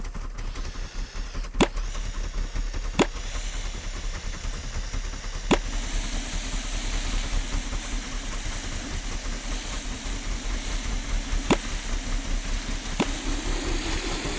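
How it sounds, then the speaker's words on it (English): A car engine in the video game Scrap Mechanic idles steadily for the whole stretch, a constant low rumble with occasional faint clicks on top, no voices. "I heard an engine."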